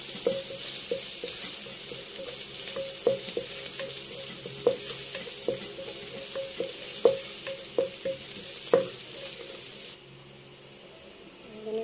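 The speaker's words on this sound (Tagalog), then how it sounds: "Nagpainit na ako ng mantika guys. Lagay ko na yung bawang." Garlic fries in hot cooking oil in a pan, a steady bright sizzle with scattered small clicks and taps of a utensil throughout. The sizzle drops abruptly to a quieter hiss near the end.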